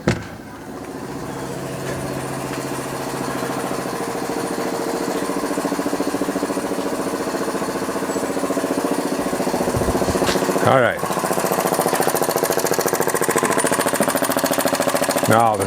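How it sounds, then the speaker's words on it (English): A small homemade model steam engine runs with a fast, steady mechanical chatter and hum for the whole stretch, briefly interrupted by a rumbling thump partway through, while someone speaks a couple of words. "This is the second engine, steam engine"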